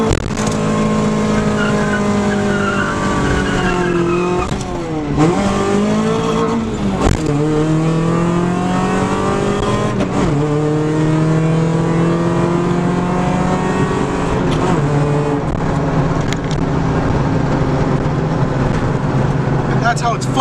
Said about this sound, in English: hit a fat burnout